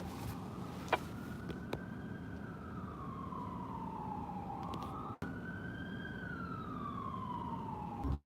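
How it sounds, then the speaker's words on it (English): Distant emergency vehicle siren on a city street, a faint wailing tone rising and falling slowly over steady background traffic noise. "we do hear lights and sirens"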